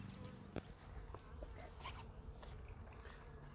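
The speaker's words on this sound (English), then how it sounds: "Quite a few bees in here, surprisingly enough." A low, steady insect buzz fills the background, the drone of many bees in a hive, with a few faint clicks and knocks over it.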